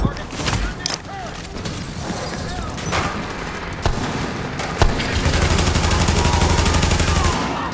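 Bursts of gunfire in Tom Clancy's The Division, scattered single shots giving way to a steady rapid stream of automatic fire in the second half, with a voice speaking over the shooting.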